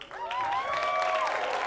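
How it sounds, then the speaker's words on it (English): An audience at a convention masquerade applauds a judge, a dense wash of clapping with a whistle or cheer rising above it, steady throughout the short burst. "That's right, it's appropriate to clap."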